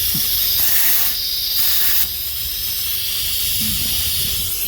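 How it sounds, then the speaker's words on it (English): A steady, loud hiss of compressed air rushes continuously as it is blown backwards through a brake line on a 1983 Chevy, with faint clicks and knocks underneath. "So I'm gonna blow air backwards through it and see"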